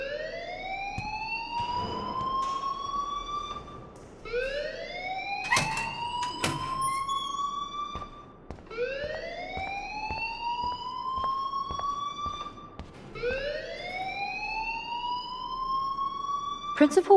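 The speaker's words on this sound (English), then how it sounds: "please turn off that alarm since that's your job" A school fire alarm in the video game Life Is Strange sounds as loud, repeating rising whoop tones, each sweep climbing over about four seconds, cycling four times and continuing without pause.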